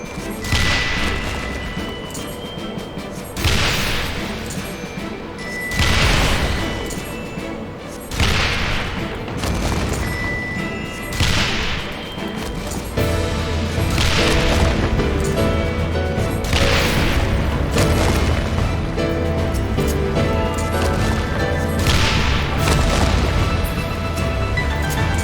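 Repeated heavy cannon blasts from Final Fantasy XIV battle combat, booming every few seconds over a dense game soundtrack and effects, loud and sustained throughout.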